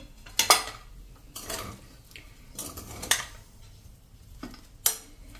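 Fresh coriander leaves being mixed into sev khamani in a bowl, with a few sharp clinks of a spoon against the bowl separated by soft stirring, fairly quiet and close.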